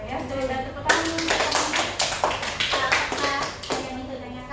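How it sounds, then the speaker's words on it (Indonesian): A classroom group claps hands during a group guidance session, a burst of sharp, dense claps starting about a second in and continuing unevenly to the end, close and fairly loud. "Ya, sudah tepuk tangan dulu"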